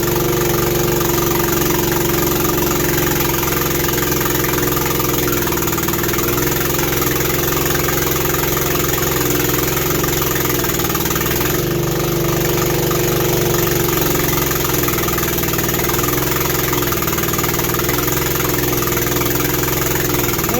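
Manlift engine running steadily at idle for the whole stretch, a loud constant mechanical drone with a slight knocking texture and no gaps, near and alone.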